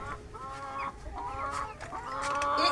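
Chickens clucking and calling on a poultry farm during egg collection, several birds overlapping in a busy, moderately close chorus with no talking.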